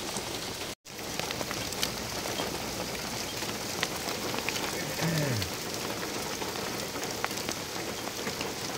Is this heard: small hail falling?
yes